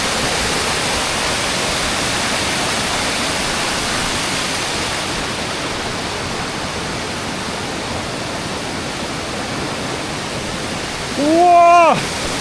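Zhaga waterfall at Munigou in Songpan, seen from partway up the mountainside at about 3,200 m on a rainy day, gives a steady, loud, broadband roar throughout, with a brief voice exclaiming near the end.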